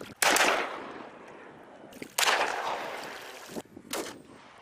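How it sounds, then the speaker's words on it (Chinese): Rapid rifle fire at balloon targets from a small boat on flowing water during a military special forces drill, with three loud bursts of shots, each ringing out and echoing before fading. "5个气球靶进行快速精准射击"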